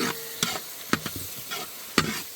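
Onions frying in a pan with salt added, a soft sizzle under several sharp stirring scrapes and clinks of a utensil against the pan, close and without talk.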